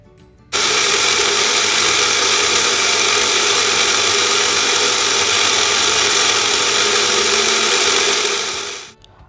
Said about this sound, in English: grind it to a fine paste